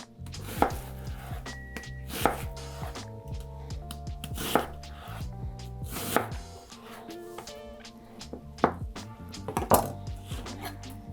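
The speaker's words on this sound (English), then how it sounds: "So we're done cutting the onions." A kitchen knife chops an onion on a cutting board while making tomato sauce, with crisp, fairly close knocks in an uneven rhythm over about eleven seconds and a few louder strikes.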